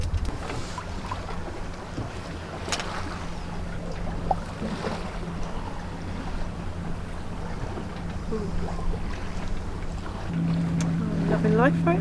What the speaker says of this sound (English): no engine, just cruising along about 5 knots, just Hank's asleep